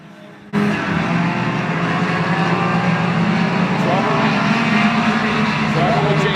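Outlaw-division race cars roar around the Oyster Bed Speedway oval in a loud, continuous engine drone that swells slightly as the pack passes close by, following a brief quieter moment at the start.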